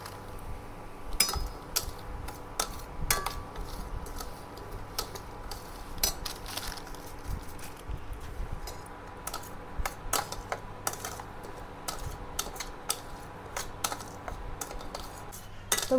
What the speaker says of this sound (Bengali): এবার আমি সুজিটা ভেজে নেব।